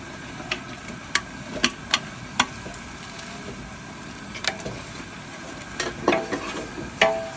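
A spoon scrapes and clacks in a pot as masala is stirred into boiled sprouted-bean usal of moth beans, mung, peas and chickpeas, with irregular sharp knocks over a faint sizzling background, no talk.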